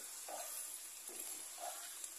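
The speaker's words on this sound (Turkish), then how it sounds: "Şimdi domatesleri ilave ediyorum" Faint sizzling of green beans in a pan as tomatoes are added, with a few soft stirring scrapes over steady frying hiss, no voices.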